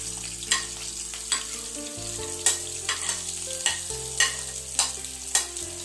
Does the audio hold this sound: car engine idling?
no